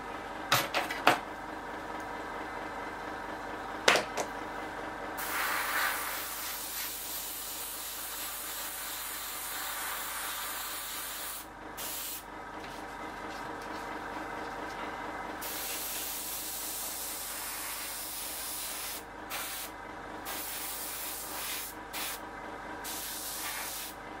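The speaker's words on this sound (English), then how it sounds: "Okay, I'm hoping you can see that how quickly and easily this is being sprayed now." An airbrush sprays paint onto a Seafire XV scale model, a soft continuous hiss broken by short pauses, with a few faint clicks near the start, close and otherwise quiet.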